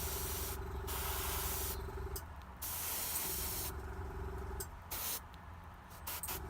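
An aerosol can sprays varnish onto a miniature in several steady hissing bursts of one to two seconds, close and fairly quiet, with short pauses between them.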